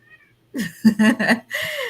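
A cat meows several times in a row, close and fairly loud, with rising and falling drawn-out cries, one long sliding call at the end.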